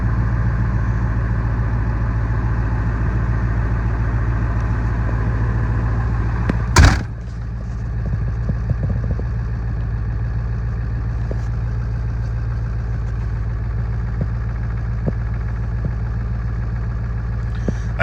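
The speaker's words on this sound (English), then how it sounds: "I usually let the truck run at dead idle for about a minute or so before I kick it to high idle" A 7.3 truck engine idles at dead idle after a cold start, a loud, steady, low chugging drone interrupted once by a brief sharp clunk, after which the idle carries on slightly quieter.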